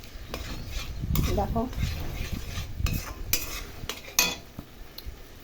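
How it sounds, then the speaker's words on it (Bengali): Mango chutney being stirred and fried in a pan, with a utensil scraping and clinking against the metal in irregular strokes over a soft background sizzle, fairly close, no speech over it. "এই যে এখন ভাজা ভাজা করছি"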